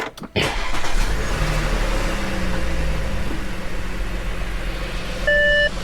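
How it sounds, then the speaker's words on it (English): An Audi A7 with a 3.0T CREC engine and a PCV fault starts and idles close by, a steady low engine drone with a faint ticking, followed by a short electronic beep near the end. "Because of the PCV issue, car does make a little bit like clicky noise."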